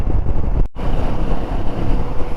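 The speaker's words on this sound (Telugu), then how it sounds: "ఇప్పుడు గాలి తోలుతా ఉంది." Strong mountain wind in Sangla Valley buffets the microphone with a loud, continuous low rumble. A brief sharp dropout breaks it near the start, and no one speaks.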